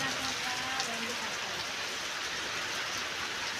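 Steady rain pours over cotton fields in Lilapur village, a dense even hiss throughout with a faint voice murmuring briefly near the start.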